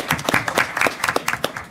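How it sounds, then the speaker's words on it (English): An audience at a policy panel discussion on Ukraine applauds, a short burst of dense, close clapping from many hands at a steady level. "we should applause for the audience slugging it through with us here"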